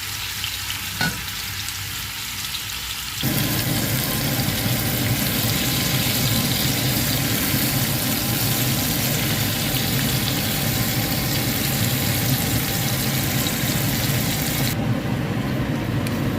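Fish sizzles loudly in hot oil in a pan for a fish curry, a dense steady crackle that swells after a quieter opening and continues without talk.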